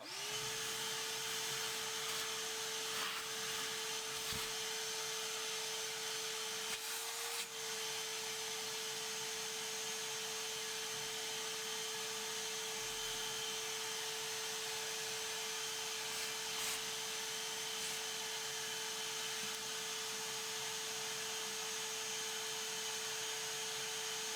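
A vacuum sucks material out of a vermicompost bag bin with a steady, faint motor whine holding one pitch for the whole stretch, broken only by occasional brief rustles and knocks.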